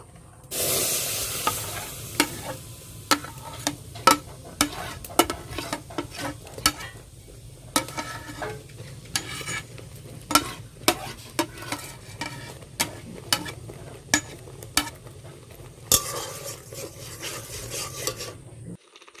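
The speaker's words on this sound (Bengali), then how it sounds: "এবার আমের কাতটাকে কড়াইতে একটু নেড়ে নেব। কড়াইটা গরম হয়ে গেছে। এবার আমের কাতগুলো দিয়ে দেব।" Mango pulp being stirred in a hot wok, a steady sizzle of frying broken by repeated sharp scrapes of the spatula against the pan, close and fairly loud, with no talking.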